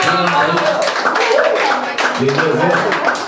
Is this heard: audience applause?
yes